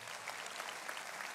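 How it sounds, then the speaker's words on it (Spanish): A crowd at a Passion play of Jesus's death and crucifixion claps steadily, a dense, even patter of applause with no break. "Démosle un aplauso a los muchachos"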